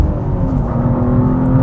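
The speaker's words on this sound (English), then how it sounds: "I'm braking for this corner, I go down to second, suddenly my responsiveness is through the roof" Engine of a manual car revs hard as the driver brakes into a corner and downshifts to second gear, a steady loud near drone with a strong low tone, no talk over it.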